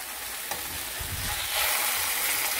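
Garlic cloves toast and sizzle in a hot pan for a Matamoros-style tostada salsa, their papery skins loosening; a steady, close frying hiss runs alone and grows louder toward the end.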